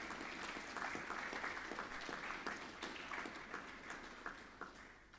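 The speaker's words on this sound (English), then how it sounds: "Let's give these boys a round of applause." Applause at a boys' high school prize giving, dense clapping from an audience sustained throughout, steady and moderately distant, tapering slightly toward the end.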